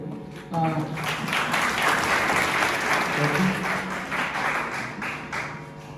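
Students in a college lecture classroom break into a burst of applause, steady clapping from a group filling the room for several seconds, close and fairly loud.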